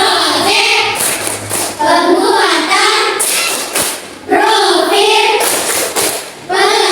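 A school class performs a rhythmic tepuk, clapping a patterned beat with their hands while chanting together loudly up close.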